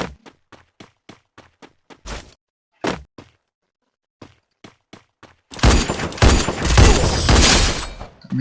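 Gunfire in a shooting video game during a headshot kill: a series of sharp, evenly spaced shots with brief pauses, then a loud sustained burst of dense firing and impacts at the end.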